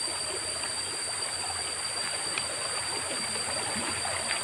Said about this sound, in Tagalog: hindi masyadong ganun kalakas yung current ng tubig